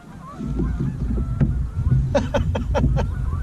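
Geese honk loudly several times in a rapid burst, close by, heard from a kayak on the water, over a low rumbling background.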